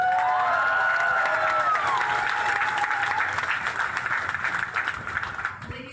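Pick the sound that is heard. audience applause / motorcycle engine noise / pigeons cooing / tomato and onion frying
audience applause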